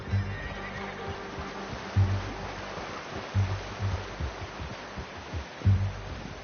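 A horse in the Red Dead Redemption 2 video game whinnies and snorts over a steady clip-clop of hooves, with several louder hoof thumps and low rumbling breaths standing out alone without any speech.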